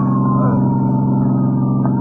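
A loud ambulance siren wails continuously with a slowly falling pitch over a rumbling engine, close and steady, as a sound effect in an old-time radio detective drama.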